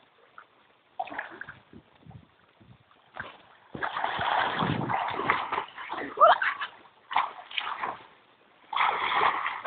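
Water splashing and sloshing in bursts as someone swims in shallow water in Catanduanes, Bicol, with people talking throughout over the irregular close splashes.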